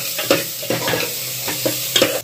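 Green chillies and sugar drops are stirred in a sizzling frying pan, the spoon scraping in a few distinct strokes over a steady, close hiss of frying.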